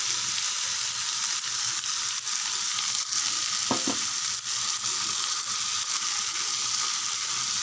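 Steady, loud sizzling of broad beans stir-frying in a pan with roasted gram powder, with a brief scraping stir partway through; no voices.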